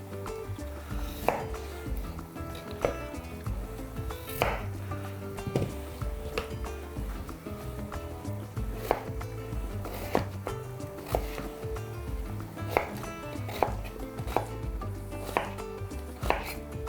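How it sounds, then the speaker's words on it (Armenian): A knife finely chops two medium potatoes on a board for a beef and vegetable sauce, giving a steady run of sharp, close knocks at an even pace with no talking. "Կարտոֆիլը կտրատում ենք մանր, որ արագ եփվի եւ լցնում ենք արգանակի մեջ"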